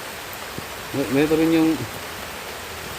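Steady rain falls through the night, a constant soft hiss that runs the whole time, with a brief voice breaking in over it partway through.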